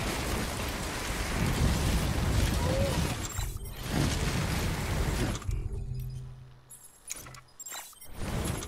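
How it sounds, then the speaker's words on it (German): In the video game Death Stranding, heavy rain hisses steadily with low thunder-like rumbling, then thins out with sudden gaps and quieter stretches toward the end. "Wenn der Regen aufhört, dann."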